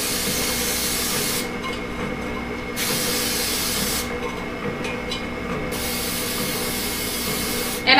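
Cooking spray hisses from an aerosol can onto a bundt cake pan in two bursts of about a second each, close and loud over a steady kitchen hum.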